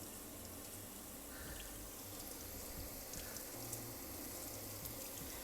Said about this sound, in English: we are just about done on the final rinse.